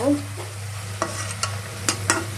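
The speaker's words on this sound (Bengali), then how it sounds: "তারপর ওখানে আলু পটলটাকে কষিয়ে নিচ্ছি ওই একই মশলার মধ্যে" Potatoes and pointed gourd sauté in oil and spices in a pan, with a steady close sizzle and several sharp scraping strokes of a spatula stirring the vegetables.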